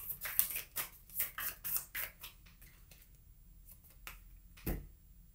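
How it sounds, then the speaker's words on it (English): Tarot cards being shuffled by hand, a run of crisp riffling snaps and flutters up close in the first seconds, then sparser soft shuffles and one sharp slap near the end, with no talking. "how do I shuffle the cards so much?"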